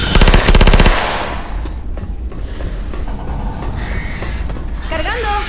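Rapid submachine gun fire in Left 4 Dead 2, a loud close burst of densely repeated shots for about a second, followed by mechanical clatter, background game noise and chirpy sounds near the end.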